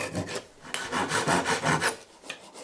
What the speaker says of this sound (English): Then it was just a matter of rasping, sanding, and scraping the remaining material